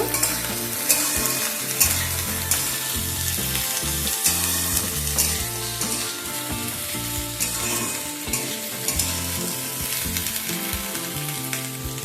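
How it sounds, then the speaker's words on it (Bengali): Eggplant pieces fry lightly in a pan with a steady, dense sizzle, broken by frequent stirring scrapes and clinks close by, with no voices. "এবার এগুলোকে হালকা করে একটুখানি ভেজে নেব"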